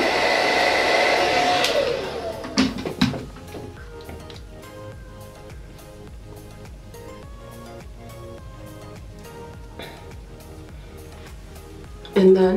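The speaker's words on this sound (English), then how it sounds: "And then I'm gonna use my blow dryer" A blow dryer runs steadily for about two seconds on crochet boho locs, sealing them after spray, then cuts off, leaving quiet background music and a brief burst of noise at the end.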